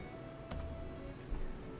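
A few keys tapped on a new laptop keyboard, a short double click near the start and another soft clack a moment later, close and fairly faint over a quiet room hum.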